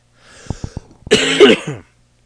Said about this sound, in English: my voice is starting to go and I am coughing